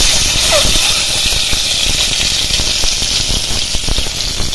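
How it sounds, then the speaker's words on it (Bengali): Peeled boiled eggs frying in hot oil in a pan give a loud, close, continuous sizzle and hiss that holds steady from start to finish, with no voices. "দিয়ে এবার ডিমগুলো ভেজে নেব।"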